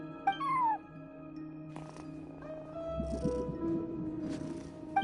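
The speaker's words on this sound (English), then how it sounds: "No one except for a cat watching over the front desk." A cat watching over a front desk in Genshin Impact gives a short rising meow near the start, then a low continuous purr with a few soft chirps, fairly quiet overall.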